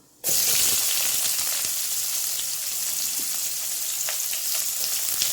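Onion drops into hot oil and bursts into a loud, steady hiss that holds for several seconds, dense and close with faint crackles throughout.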